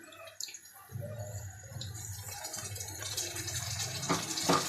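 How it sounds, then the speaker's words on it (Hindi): Yogurt poured into qorma masala with salt, garam masala and whole black peppercorns, a soft wet plopping and gushing sound that swells into steady squelchy liquid noise, close and moderately quiet. "अब इसमें दही शामिल कर दें"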